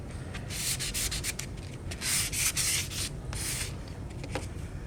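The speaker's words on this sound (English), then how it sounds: "grabbing a bigger piece of sandpaper and just doing a very general light sanding" Sandpaper makes light, general passes along a bamboo kendo shinai, giving a close, soft rasping in uneven strokes that swell and fade from moment to moment.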